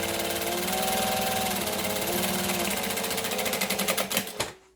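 A sewing machine runs a joining seam with a back stitch while making a handbag, a fast steady mechanical whir and needle chatter that holds even, then slows into a few separate thumps and stops.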